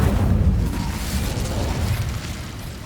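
Incendio fire spell cast in Hogwarts Legacy, a loud whooshing burst of flame that swells at the start and rumbles away over a couple of seconds, with no voices.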